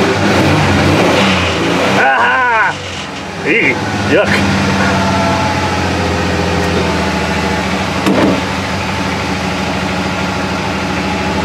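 Engine of a Ranger UTV with the throttle worked by hand, surging through several revs over the first few seconds before settling into a steady loud idle, with brief exclamations from people nearby.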